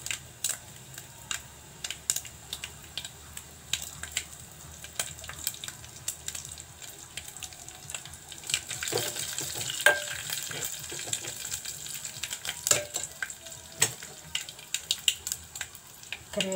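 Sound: cumin and dried red chillies sizzling in hot oil

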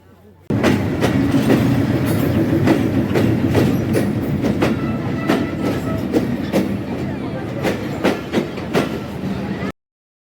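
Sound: Ruposhi Bangla Express passenger train entering station platform

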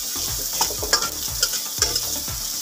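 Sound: onions frying in a pan for Maggi

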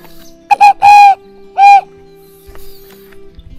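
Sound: imitated turtledove call used to lure birds

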